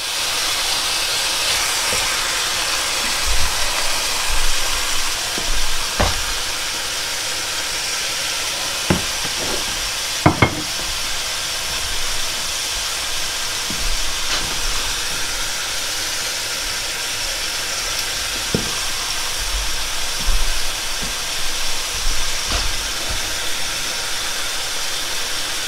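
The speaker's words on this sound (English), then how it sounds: "we need a little bit of olive oil to get her going. We're gonna sear these right up." Duck breasts sear in olive oil in a pan, giving a steady, close hiss and sizzle broken by a few faint clicks and pops.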